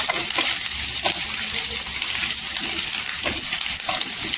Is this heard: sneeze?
no